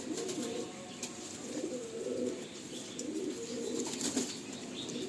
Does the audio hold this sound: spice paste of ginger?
no